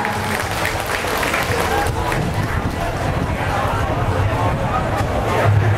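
An audience gives sustained, warm applause to welcome two priests at a parish celebration marking a priest's fifth ordination anniversary, with steady clapping and crowd murmur filling the hall throughout.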